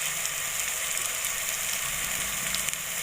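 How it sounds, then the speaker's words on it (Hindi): Tomatoes frying in a pan for an ojri curry: a steady, close sizzle with a bright crackle that holds evenly throughout, with no talk. "अब टमाटर को थोड़ी देर भून लूँगी।"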